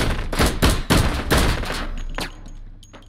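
Rapid bursts of gunfire in the VR shooter H3VR, several loud close shots in quick succession that fade into a quieter tail, no talking.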